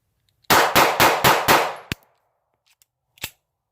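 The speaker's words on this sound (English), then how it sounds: "we're going to be putting 5 more rounds to it. We're going to be doing it as fast as I can." Five sharp, rapid pistol shots from a Davis P-380 ring out close and loud in quick succession. A sixth shot follows a moment later, and a fainter report comes after a short pause.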